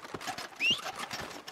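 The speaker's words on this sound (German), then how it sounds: "Komm her, du Pferd." A horse in the video game Red Dead Redemption 2, hooves clip-clopping steadily up close with a short high whinny in the middle.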